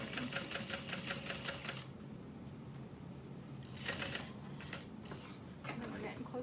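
Sewing machine stitching a bucket bag over a small vinyl scrap, with two bursts of rapid, steady needle clatter separated by a quieter pause, fairly close and loud.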